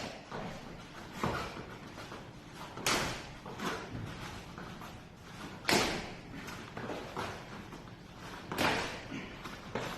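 A training knife is driven hard into protective gear during pressure testing in a martial arts hall, producing a series of sharp, close thumps and impacts at irregular intervals over scuffling movement.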